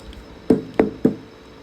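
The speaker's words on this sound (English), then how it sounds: "Let's tap and make sure that there's no air pocket" Three hollow knocks, evenly spaced and close, as a plant pot is tapped to settle soil after repotting Albuca spiralis bulbs, with nothing else heard.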